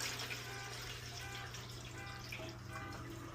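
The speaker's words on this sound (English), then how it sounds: "You might want to put some water in, see what's going on in there." Water pours steadily into a BUNN coffee machine under repair for a heating fault, a continuous close trickling and splashing stream filling the reservoir without pause.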